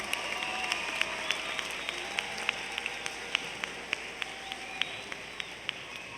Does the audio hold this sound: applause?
yes